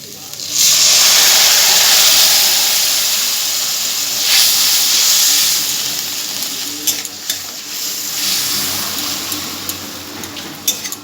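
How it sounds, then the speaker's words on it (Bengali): Liquid squeezed from onions poured into a pan of fried spice masala for Bengali muri ghonto made with gobindobhog rice, bursting into a loud steady sizzle and hiss that fades slowly, with stirring scrapes toward the end and no talk. "মশলাটা ভালো করে ভেজে নেওয়ার পর আমি দিয়ে দিচ্ছি পেঁয়াজ থেকে যে জলটা বের করে রেখেছিলাম সেই জলটা"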